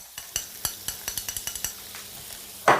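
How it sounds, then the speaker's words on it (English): Clarified butter and regular butter in a pan for schnitzel sauce, a light sizzle under a quick series of close utensil taps against the pan, ending in a louder clatter. "Now I'm adding some clarified butter and regular butter to the pan again."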